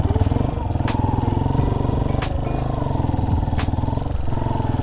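Motorcycle engine labouring up a steep mountain road in cold highland terrain, a steady mid-pitched drone held throughout with a few brief clanks over it, close and fairly loud.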